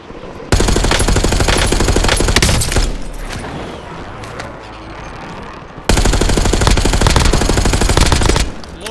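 Rapid automatic gunfire in the video game Warzone, two loud sustained bursts separated by a quieter stretch of scattered shots and game noise, close and dense.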